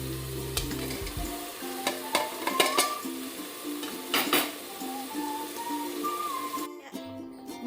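Chopped capsicum and potatoes go into a pot of sizzling goat meat curry, with steady frying hiss, scraping stirs and metallic pot clatters close by, no talk.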